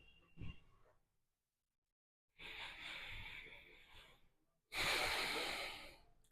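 Slow, deep yoga breaths taken in a relaxation pose during a diabetes yoga therapy session come through close and clear as three long breaths separated by quiet pauses.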